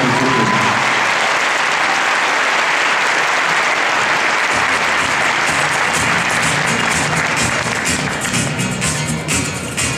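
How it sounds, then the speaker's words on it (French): An audience at a Bordeaux show jumping event applauds loudly and continuously for about ten seconds, a dense wash of clapping that thins slightly toward the end. "et si le public de Bordeaux t'applaudit encore très fort"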